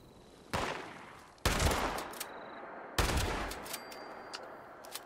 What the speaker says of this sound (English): And he peeks down, I'll shoot underneath him.